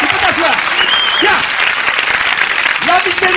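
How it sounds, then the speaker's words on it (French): A television studio audience on the French show Les Nuls L'Emission applauds loudly for Fabien, with a dense, continuous roar of clapping while people talk over it. "On l'applaudit très fort."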